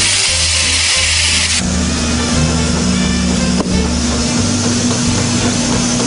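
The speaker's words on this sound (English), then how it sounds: "You're now inflating the tire somewhat." Air compressor hose filling a car tire at a Ford service shop, a steady loud broadband hiss with a constant low mechanical hum running throughout and a slight shift partway through.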